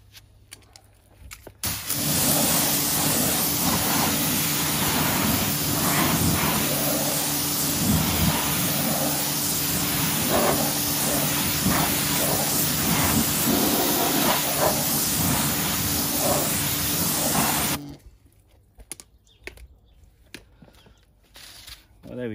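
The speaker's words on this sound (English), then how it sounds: "let's have a rinse off" Water rinse spraying onto a car wheel during cleaning, a loud continuous hiss and splatter close by that runs for about fifteen seconds and then stops abruptly, leaving a quiet background.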